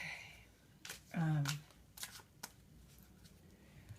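Quiet bursts of tarot cards being shuffled, a few soft riffles spread across a few seconds, with a brief murmured vocal sound in the middle.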